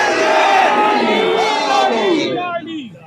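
A large crowd at a religious gathering shouts a slogan chant in unison, loud and sustained, then the voices fade and trail off near the end.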